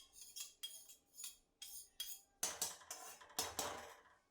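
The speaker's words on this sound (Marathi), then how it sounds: "जे भातवाळीला बेसन चिटकलेले आहे ते छोट्या चमच्याने काढून घेते" A small spoon scrapes sticky gram flour off a metal plate in about eight quiet, rhythmic strokes. The later strokes are louder and harsher, and nothing else is heard.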